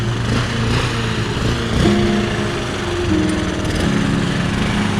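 A motorcycle engine idling steadily up close, a loud continuous buzzing putter with a slight wobble in pitch partway through, no voices over it.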